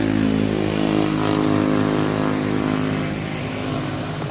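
A radio-controlled Su-30 model airplane's engine is throttled up to about 70-80 percent, giving a loud, steady droning whine that holds without pause and eases slightly toward the end.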